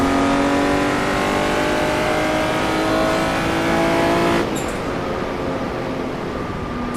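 A Jaguar D-type race car engine at Goodwood holds a loud, sustained, harmonically rich roar that drops in pitch and eases off partway through, close and dominant with no talk.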